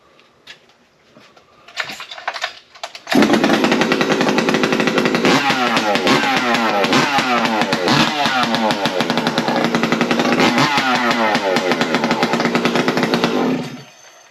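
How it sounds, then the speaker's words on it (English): A chainsaw fitted with a long exhaust pipe sputters through a few pulls, then fires and runs loud and close with a deep, rough roar and several revving surges before shutting off. "I did have this saw running not too long ago, so hopefully it fires up good for us"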